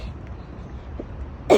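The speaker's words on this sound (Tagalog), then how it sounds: "Inuubo pa ako." A single short, sharp cough bursts out near the end, close to the microphone, after a stretch of quiet street ambience on a warm day outdoors in Osaka near a large church.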